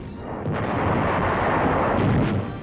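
Heavy artillery fire pounding a German harbor stronghold in WWII newsreel footage, a loud sustained roaring blast that swells and rumbles for a couple of seconds with no voice over it.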